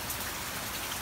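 Heavy rain pours steadily around a car, a dense unbroken hiss of drops that is loud and close with no pauses and no voices.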